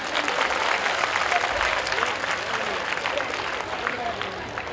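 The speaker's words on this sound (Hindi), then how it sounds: "ताली बजाइए।" An audience claps through a sermon by Jain monk Tarun Sagar, a dense steady patter of many hands, moderately loud and sustained throughout.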